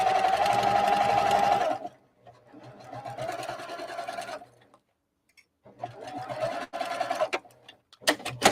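A sewing machine stitches quilt sashing and borders in fast, steady bursts of whirring needle action. It stops and starts several times, with short pauses and near silence between runs, and there is little talk.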